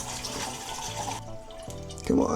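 Still water from a shop being poured into a Pinter home-brew keg for a West Coast style beer, a steady liquid splashing and filling sound, close and moderately quiet, ending with a brief brighter gurgle.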